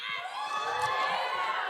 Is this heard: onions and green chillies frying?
no